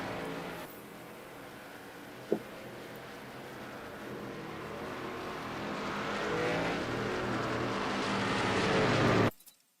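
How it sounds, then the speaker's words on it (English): A pace car in a NASCAR-style racing video game drones past, its engine swelling gradually louder over several seconds after a brief sharp tick, then cutting off abruptly. "There goes the pace car."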